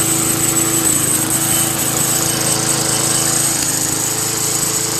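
A Craftsman Eager One push lawn mower with a 4 HP Tecumseh engine runs at a steady idle with a persistent rattle, loud and close, with no talk.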